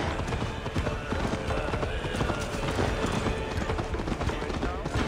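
Rapid horse hooves clop in a steady galloping rhythm in Assassin's Creed Valhalla, close and loud, with voices talking over them and a dense background of game sound.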